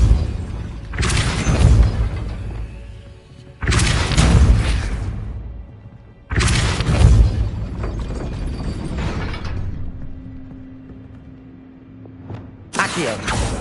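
Depulso spell casts in Hogwarts Legacy come as four loud, bursting impacts spaced a few seconds apart, each a sharp broadband blast trailing into a rumble, with a low hum between them.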